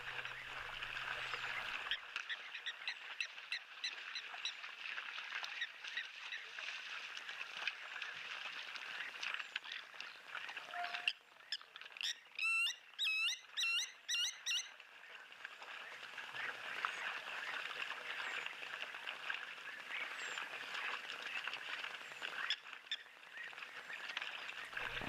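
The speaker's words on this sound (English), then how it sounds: "just listening to these European bee-eaters" A flock of European bee-eaters calls in a dense, continuous chorus of bright trilling notes over open savanna. The calls hold steady and fairly close for the whole stretch, with no one talking.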